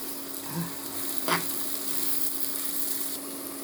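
Carrots dropped into a pan of frying onions, a steady soft sizzle with two brief louder bursts as the vegetables land, heard up close with no talking.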